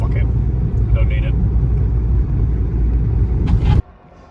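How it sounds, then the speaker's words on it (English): A car engine rumbles steadily at close range with a low, heavy drone, then cuts off abruptly near the end, leaving a quieter hum. "I can hear the guys in the garage revving the bollocks out of it now."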